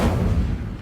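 Incendio fire spell cast in Hogwarts Legacy, a single loud booming burst of fire that swells instantly and then fades over less than a second, heard alone.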